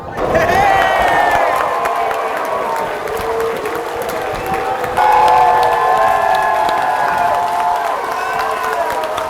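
Fans at Silverstone cheer, whoop and applaud Lewis Hamilton's Ferrari, a loud continuous crowd roar with clapping, whistles and shouts that surges again midway.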